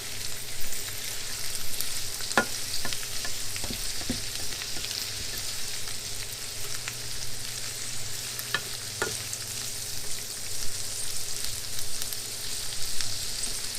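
Green beans with garlic and bacon sizzle steadily in a hot pan while being stirred, a continuous frying hiss broken by a few sharp clicks of the utensil, close and unaccompanied by speech.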